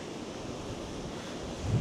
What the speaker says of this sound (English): Big waves crashing in.